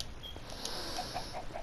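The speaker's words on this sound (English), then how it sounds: "Oh, and all the chickens are escaping too." Chickens in Minecraft, faint, quiet clucks and soft squawks scattered over a low ambient hum, with no talk.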